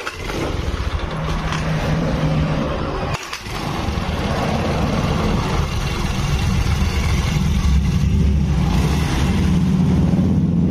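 A Honda Beat carburetor scooter engine starts by kick and then runs steadily close by, a loud continuous buzzing drone with a brief dip early on, with no talking.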